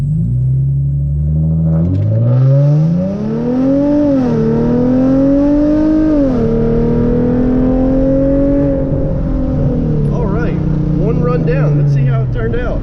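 A Hyundai Genesis Coupe 3.8 launching hard with traction control off for a 0-to-60 run: a loud, close engine roar rising in pitch through several gear changes, then easing off near the end.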